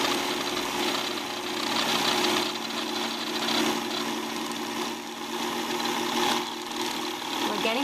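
A sewing machine's bobbin winder spins thread onto a bobbin with a continuous, steady mechanical whir and hum that holds an even pitch throughout. The sound is close, with no one speaking.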